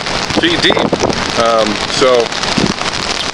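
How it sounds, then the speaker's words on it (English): Heavy rain during a severe thunderstorm in the Dallas-Fort Worth area, a steady loud wash of rainfall and wind noise while someone talks over it. "the rain is really starting to pick up now"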